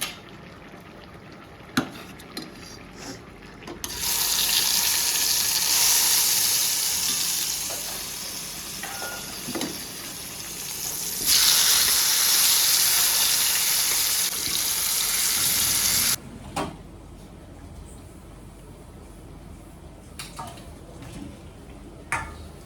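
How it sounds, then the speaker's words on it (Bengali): Food fries in a small mini wok in a home kitchen, giving loud bursts of sizzling hiss that rise and fall in two long stretches, then fade to quieter kitchen clinks and occasional knocks. "এই যে ছোট্ট মিনি কিউট কড়াইটা বসিয়ে দিয়েছি এখন এটার মধ্যে এগুলো ভেজে নেবো"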